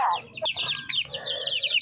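A chicken clucking nearby, a quick run of short, bright clucks and squawks with no talk over them.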